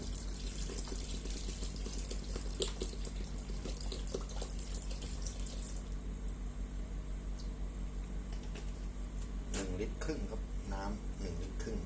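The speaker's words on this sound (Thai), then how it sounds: "ผมจะใส่น้ำเปล่าแค่ประมาณลิตรครึ่ง เพื่อกวนให้มันเข้ากัน" Plain water poured to mix a batch of homemade Downy-scented laundry detergent, a steady close running hiss with a low constant hum underneath and a few light clinks and splashes.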